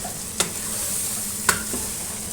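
Masala-stuffed green chillies fry with chicken over a low flame, giving a constant soft sizzle with two distinct scraping stirs.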